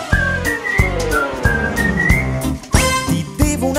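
A melodic whistled tune plays over a bouncy Italian pop-rock band backing of drums and bass, the whistling loud and bright in the mix with short sliding phrases.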